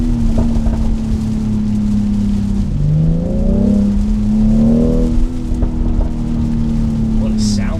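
A BMW X3 M40i SUV engine revs and drones loudly from inside the cabin, its pitch climbing and falling in a few sweeping surges over a steady low rumble.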